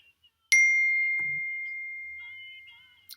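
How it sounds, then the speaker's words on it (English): A single clear ding from a mobile phone notification rings out in a quiet room and decays slowly over about two and a half seconds, followed by a faint click. "My phone's going off."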